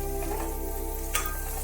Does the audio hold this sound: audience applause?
no